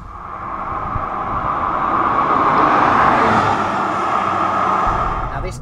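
A 1998 Porsche 996 Carrera, the first model year of the water-cooled 911, drives close by with a steady, full engine drone that swells and eases over several seconds, with no one speaking.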